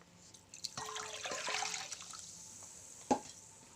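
Sparkling water is poured for making kattama bread, a quiet fizzing trickle that swells for about a second and then fades, followed by a single sharp clink.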